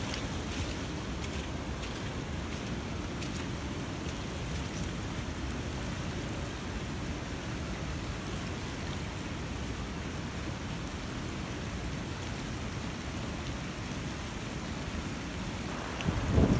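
Steady, even light rain hiss in woodland continues throughout with no pauses, a soft constant patter from start to finish.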